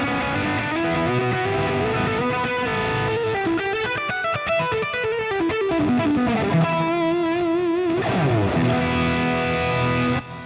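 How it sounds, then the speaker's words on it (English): An electric guitar played through a DS1 distortion pedal into the crunch channel of an amp model on a Fractal unit rings out in sustained, crunchy lead lines and chords, loud and continuous, with no talk. "I particularly like the way that DS1 sounds into the crunch channel."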